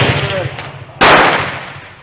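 A single loud gunshot from a Remington rolling block carbine in 7x57 caliber, Uruguayan issue, cracks sharply at mid-clip and decays with a short outdoor tail over low background rumble.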